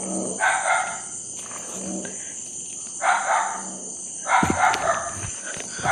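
A dog barks in several short bursts, somewhat distant, with insects chirping steadily in the background between barks.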